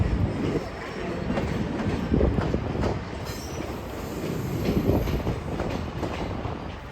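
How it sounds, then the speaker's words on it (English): A GO commuter train rolls past in downtown Toronto, a loud continuous rumble of wheels and cars with faint squeals and clatter, close by and steady throughout. "got a GO train passing by"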